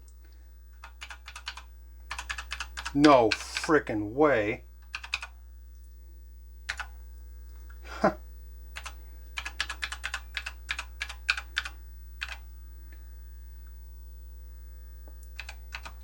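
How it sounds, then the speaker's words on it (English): Bursts of clicky keystrokes on a TRS-80 Model 1 computer keyboard, irregular and close, with a voice briefly exclaiming among the typing over a low hum. "let's try out the keyboard"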